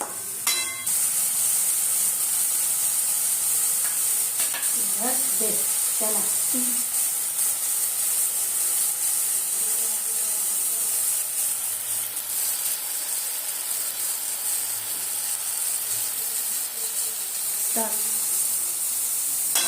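Spices and lentils for khichdi fry in a pan with a steady, loud hiss and sizzle throughout, while someone speaks briefly over the cooking.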